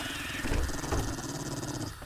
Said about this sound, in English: that dog is just going to kill itself on the spike slowly